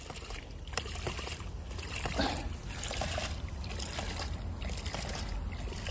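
A ram pump cycles steadily during a summer heat wave as water flows and trickles through it, a continuous wet rushing sound with soft periodic surges, heard close.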